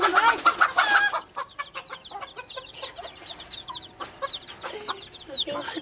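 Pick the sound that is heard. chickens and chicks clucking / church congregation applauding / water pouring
chickens and chicks clucking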